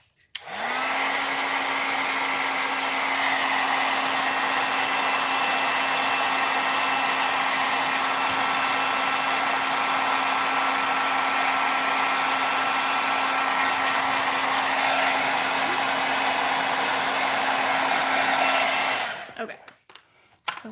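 A handheld heat tool blows continuously for about eighteen seconds while embossing small images on handmade Valentine's cards, a steady close whirring roar that ends abruptly when it is switched off.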